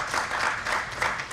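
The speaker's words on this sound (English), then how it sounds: "maybe with one clap we can acknowledge everyone who's here" Steady applause from an audience at a mobile app launch event, a dense wash of many hands clapping together for just over a second at moderate loudness, with no talk over it.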